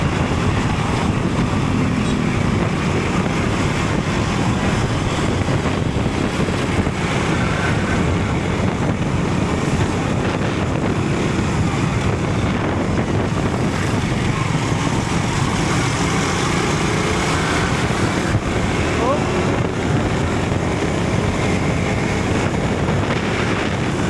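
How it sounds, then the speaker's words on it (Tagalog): Strong wind buffets the microphone by the sea, a loud, constant roaring rumble that stays unbroken throughout with faint surf and a voice barely audible beneath it. "Malakas ang palo ng hangin mga kautoy."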